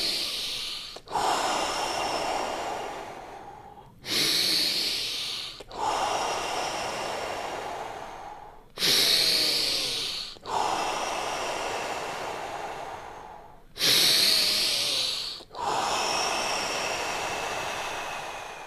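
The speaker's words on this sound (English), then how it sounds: "5 deep breaths." Deep rhythmic breathing during a morning breathing exercise session: long forceful inhales and exhales repeating in steady cycles, close and loud, with no talking.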